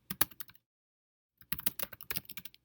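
Two quick bursts of keystrokes on a computer keyboard, a short run of clicks, a pause, then a longer patter of close, crisp taps, with no one speaking.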